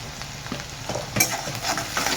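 Salted onions fry in a hot pan for dal palak, a steady close sizzle with a few stirring scrapes across the short stretch.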